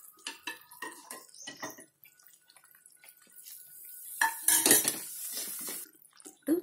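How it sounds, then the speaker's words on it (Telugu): Ghee-laden Mysore pak mixture stirred in a pan with a spoon, giving repeated close scrapes and clinks of metal against the pan, with bubbling sizzle swelling louder toward the end. "మళ్ళీ ఇలా వేసుకొని కలుపుతూ ఉండాలి"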